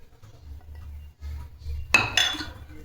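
Carrot cake batter of grated carrot, wheat flour, milk and butter being mixed in a bowl, with a spoon clinking against the bowl in a short burst of scraping and tapping near the end, after quiet low background.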